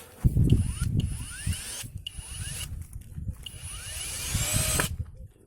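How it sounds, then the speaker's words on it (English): A drill bores a hole through a wooden pole, whirring in uneven pulses with rising and falling pitch sweeps and brief pauses, loud and close with rattling mechanical overtones. "I'm going to drill a hole through here, put a screw in so that it will stay without rolling"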